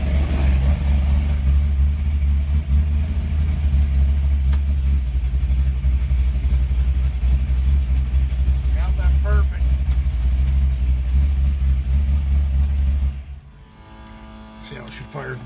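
A car engine fitted with a Holley 850 Ultra XP carburetor runs loud and steady at a high idle for about thirteen seconds, then cuts out abruptly into a much quieter background.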